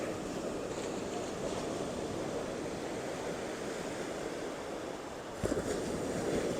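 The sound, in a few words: calm sea waves at West Palm Beach, Florida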